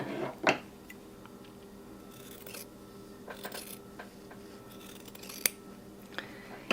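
Scissors cut fabric between sewn seams, giving several sharp, close snips with quiet rustling between them, alone and fairly faint.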